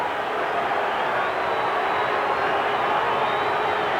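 A 1989 NFL stadium crowd in Denver produces a steady, loud wash of roaring noise, a constant distant-sounding rumble of many voices with no breaks.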